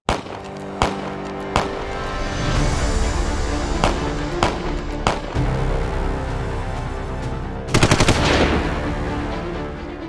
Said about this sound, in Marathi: पहलगामच्या बैसरन घाटीत गोळीबार सुरू असताना